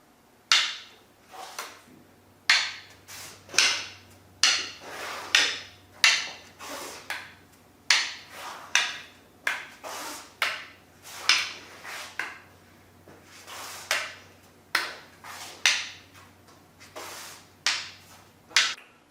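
Hard wooden fighting sticks clash in a steady repeating rhythm during a single sinawali drill, sharp cracks in quick pairs and triplets, close by, with no voices.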